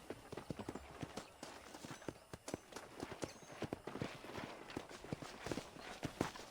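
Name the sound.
horse hooves walking, from the video game Red Dead Redemption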